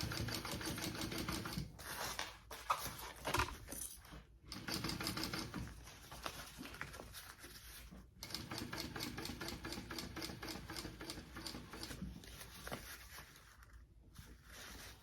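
A sewing machine running a seam on an Arsia crossbody bag, fast rhythmic needle clatter in long runs separated by brief pauses, close and fairly quiet.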